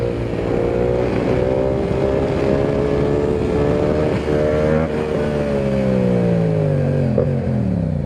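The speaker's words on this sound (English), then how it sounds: "pull in that clutch, cut off power, rev it up loud, and then you're gonna release that clutch and dump it" A Yamaha R7 motorcycle engine revs hard and loud, holding a steady high drone that rises and dips in pitch, heard close throughout with no talk.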